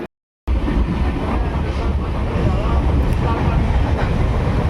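Steady low rumble and rattle inside a moving passenger train departing Kamakhya station in Assam, a continuous close-up carriage roar after a brief silent gap at the start, with faint voices under it.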